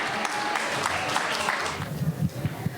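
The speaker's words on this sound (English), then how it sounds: "please give a big round of applause to this entire youth team" An audience applauds a youth drama team at a Janmastami Vedic cultural program, a dense wash of clapping that thins out toward the end as voices come through.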